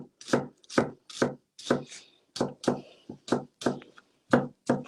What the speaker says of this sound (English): it just keeps the onion together as I'm chopping